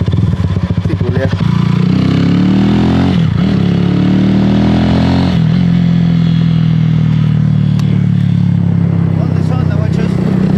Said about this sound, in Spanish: Amigo, suena una banda el escape.